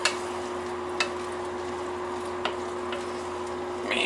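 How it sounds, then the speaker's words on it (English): Long grain rice being stirred in a pan over a steady low sizzle and hum, with a few faint scrapes and clicks from the utensil. "Just mix this long grain rice up in here"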